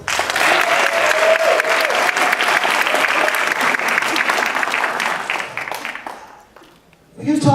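Audience at a 2018 Urban World Film Festival panel breaks into loud, sustained applause and cheering close by, which fades out near the end as a voice starts to speak.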